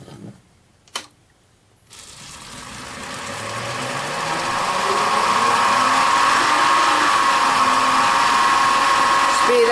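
Wood lathe spinning up while turning a carrot wood vessel, a steady mechanical whine that rises and settles into a loud sustained hum after a couple of brief knocks at the start.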